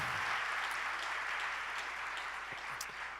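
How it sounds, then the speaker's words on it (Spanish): A church congregation claps in sustained, even applause during a Spanish-language worship service, a steady wash of many hands that tapers slightly toward the end, heard without speech. "dale un aplauso de gloria al Señor con todo tu corazón"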